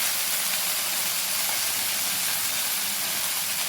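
Menthi (fenugreek) leaves frying in oil, a steady close hiss of sizzling that holds unbroken and fairly loud throughout.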